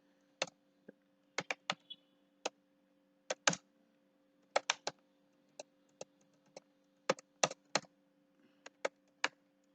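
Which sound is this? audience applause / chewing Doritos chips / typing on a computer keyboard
typing on a computer keyboard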